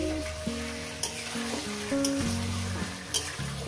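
Chicken pieces frying on high heat for a spicy chicken kosha, a steady sizzle in the pan with regular scraping stir strokes. Plain melodic tones run underneath, and no voices are heard.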